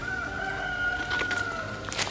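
A rooster crows at a distance on an off-grid homestead, one drawn-out call rising faintly over steady outdoor background noise, with no talking.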